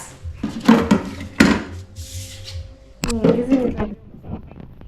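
Kitchen drawers opened and closed while new kitchen storage is set up, giving a few close wooden slides and thuds in separate bursts with brief rattles, with faint voices in the background.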